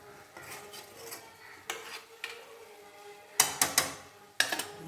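Egg masala being turned in a pan, a spoon scraping and tapping the metal in irregular clinks, with a cluster of sharper knocks near the end, no talking.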